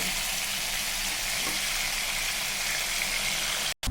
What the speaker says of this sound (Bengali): আমি কড়াইতে তেল দেওয়ার পরে আমি সেই সব পটলগুলো ছেড়ে দিলাম